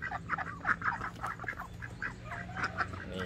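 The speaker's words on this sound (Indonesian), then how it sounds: "Bebek lebih dominan juga suaranya walaupun ada 3 ekor" Ducks quack loudly and repeatedly in a noisy cluster on a small home farm raising muscovy ducks, overlapping calls close by with softer, calmer muscovies among them.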